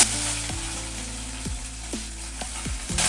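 Green chillies frying in hot groundnut oil for a tamarind chutney, giving a continuous soft hiss of sizzling oil that stays even and fairly quiet throughout, with no voices.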